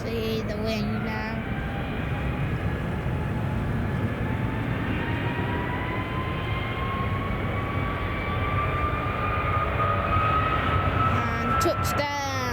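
A fixed-wing airliner touching down at Manchester Airport in the early morning, heard as a loud, steady engine roar with a slowly rising whine across the whole stretch, captured from a nearby spotting position.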